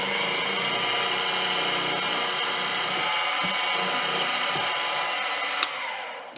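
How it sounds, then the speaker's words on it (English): A center drill cutting metal while slightly off center in the chuck, giving a steady, loud, continuous high-pitched whirring grind with no talk, then a brief sharp click near the end as the sound starts to fade. "Sounds like that center drill was a little off center in the chuck"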